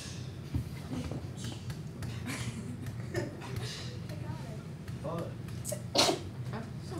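A single sneeze bursts out near six seconds in a classroom during a geometry lesson on literal equations, sharp and brief above a steady murmur of room noise and background voices.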